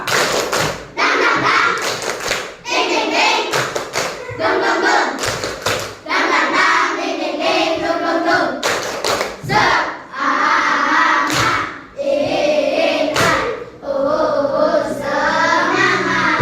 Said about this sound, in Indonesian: Tepuk semangat dua.